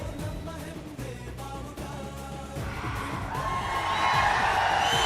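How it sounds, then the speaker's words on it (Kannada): An audience at a Kaatera film award event cheers and claps. The crowd noise stays fairly quiet at first, then swells louder in the second half, with some voices mixed in. "ಶ್ರುತಿ ಮೇಡಮ್ಗೆ ಬರಲಿ ಜೋರ ಚಪ್ಪಾಳೆ"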